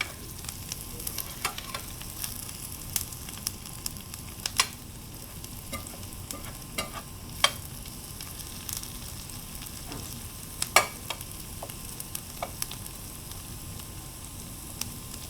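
Butter browning in a pan before broccoli, cauliflower, onions and garlic go in for adobo, a faint continuous sizzle with scattered sharp pops and crackles at irregular intervals.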